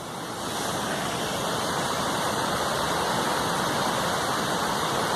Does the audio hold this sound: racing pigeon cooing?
no